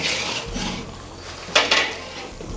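Chicken kaleji is stirred in a large cooking pot, a low scraping rub of spoon against metal with a couple of louder scrapes midway, alone and close.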